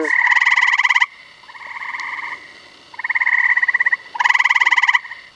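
Loud trilling frog calls rise and fall near a pond in bursts of rapid pulses, with a steady chorus of gray tree frog trills and green frog calls behind them.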